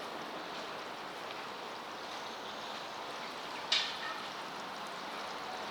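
A small donated waterfall in the grounds of an Armenian church in Singapore gives a faint, steady rush of falling water, broken once by a brief splash.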